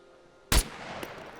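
A single sharp, loud AK rifle shot cracks in the survival video game SCUM, followed by a fainter echoing report about half a second later.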